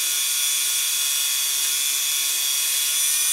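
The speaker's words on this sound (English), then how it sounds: "This Dremel is just doing it for me." A Dremel rotary tool polishes an H&K USP .45 ACP pistol, giving a steady, loud, high-pitched whine that holds constant throughout without pauses or voices.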